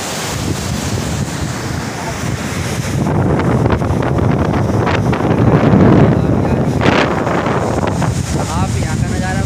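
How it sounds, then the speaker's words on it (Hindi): A roaring waterfall at the Dhumeshwar Dham temple site thunders as a loud, steady broadband rush throughout, with a voice faintly under the noise. "आप देख सकते हैं इधर का झरना कितना भयंकर है।"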